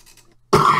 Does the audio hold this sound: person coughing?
yes